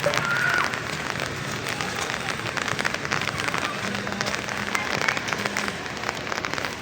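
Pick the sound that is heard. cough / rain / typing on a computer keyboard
rain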